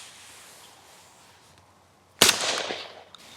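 A single sharp blast from a Winchester SX4 20 gauge semi-auto shotgun cuts through quiet outdoor air, followed by a decaying echo rolling away over about a second.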